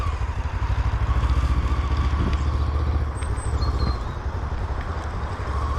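A large motorcycle during rider training accelerates as the throttle is opened, its engine a steady, close low rumble with light wind noise and clatter, running continuously without pause.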